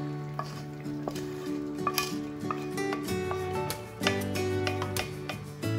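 Pearl onions and sauteed mushrooms go into a simmering coq au vin sauce, a classic French chicken stew. A spoon clinks and scrapes against the pot in uneven strokes over a soft, steady sizzle, heard up close.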